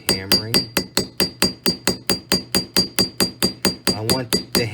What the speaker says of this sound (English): So I'm going to use the ball peen hammer to do that.